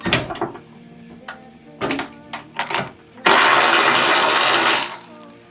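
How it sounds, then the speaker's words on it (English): A ratchet loosening the forward hood bolt on a 4th-gen Toyota Tacoma: a series of clicking ratchet strokes close by, followed by a sustained loud rushing noise for about two seconds. "we're gonna take our ratchet, make sure it's going the right way, take off this, the forward bolt"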